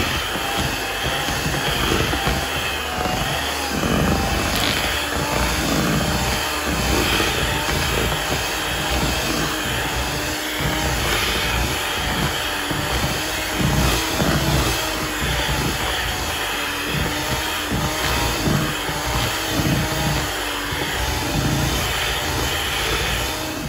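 A food processor blitzing roasted garlic mashed potatoes, giving a loud, continuous whirring motor roar with slight fluctuations, close up and steady for the whole stretch.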